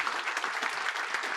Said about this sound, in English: A really big round of applause.